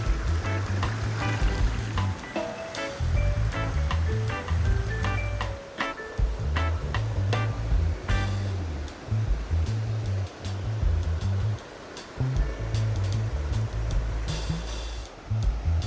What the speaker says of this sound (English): Is there anyone out there like me who just loves to see water go over a beautiful rock like this?